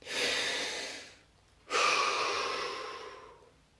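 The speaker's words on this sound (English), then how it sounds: "Take a deep breath." Two slow, audible breaths, a long inhale-like rush followed by a second after a short pause, close and fairly soft in a quiet room during a guided relaxation exercise.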